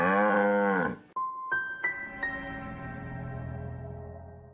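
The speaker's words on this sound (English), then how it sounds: "We do have a cow." A cow lets out one loud, drawn-out moo lasting about a second, followed by a few sharp, ringing tonal hits that fade into a low sustained hum.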